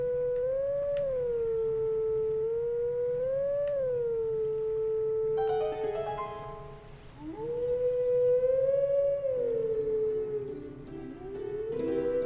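A wolf howls a sustained, wavering melody in the video game Twilight Princess, its long sliding tones rising and falling over a steady background hum, with a second layered musical line joining partway through.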